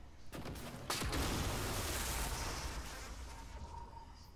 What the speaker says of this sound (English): we're going to use our glue cannon